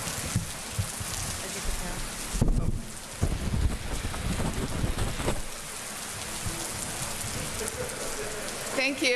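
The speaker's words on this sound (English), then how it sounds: "the rain has now started" Steady rain falls and patters on surfaces outdoors at an airport police facility ribbon-cutting ceremony, a dense continuous hiss with occasional heavier gusts and rumbles, loud and close.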